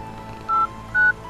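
Telephone dialing tones from the horror game I'm Counting to 6: two short, clear keypad beeps, one after the other, over a faint low background hum.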